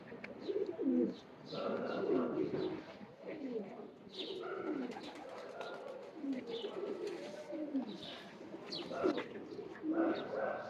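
A female pigeon and others in a rooftop loft coo in low, rolling murmurs that overlap almost continuously, with light chirps scattered through the steady flock sound.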